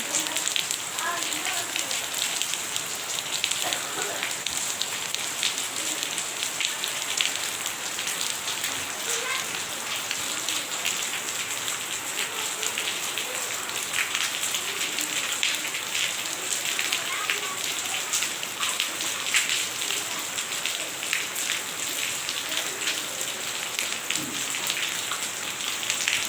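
Steady rain patters continuously on a surface, a dense, even hiss of drops that holds the same level throughout, with faint voices occasionally audible beneath it.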